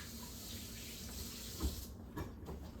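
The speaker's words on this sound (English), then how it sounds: "I'm gonna wash my hands" Tap water runs steadily into a sink during handwashing, a constant close hiss with a couple of soft splashes or knocks near the end.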